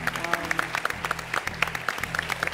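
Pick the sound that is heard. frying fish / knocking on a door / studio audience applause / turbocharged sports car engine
studio audience applause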